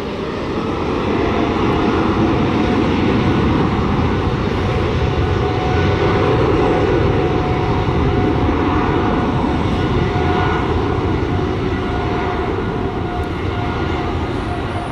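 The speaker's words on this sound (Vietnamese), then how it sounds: "Và mời mọi người chiêm ngưỡng pha cất cánh của chiếc máy bay này." An EVA Air airplane taking off from Tan Son Nhat airport, a loud, sustained jet engine roar with a broad rushing hiss that stays powerful and steady for the whole stretch, with no speech.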